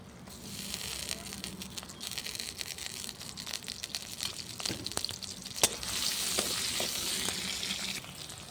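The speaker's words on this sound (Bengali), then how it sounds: "ওই কড়াতে দেবো সরষের তেল, দেবো পেঁয়াজ কুচি" Chopped onions fry in mustard oil in a wok over a clay stove, giving a steady crackling sizzle with scattered sharp pops and occasional spatula scrapes, close by.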